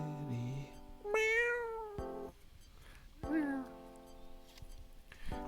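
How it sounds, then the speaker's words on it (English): A cat meows twice, a long rising cry and then a shorter one, nearby and fairly quiet, with a brief voice at the start. "Did I hear a Meow."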